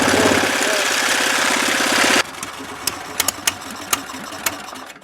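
A go-kart engine struggling to idle, a rough rapid chugging drone that abruptly cuts out, then falls to quiet clicks and a few sharp knocks.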